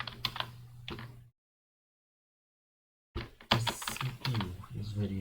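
Typing on an old, worn computer keyboard in bad condition, a quick run of close clicky keystrokes that breaks off into silence, then resumes as a busier, louder burst of clatter with some voice underneath.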